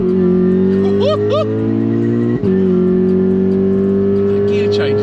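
Stage 3 tuned VW Golf R MK7.5 pulling hard under acceleration, loud engine note rising in pitch with a sharp instant gear change midway, then climbing again, heard from inside the car.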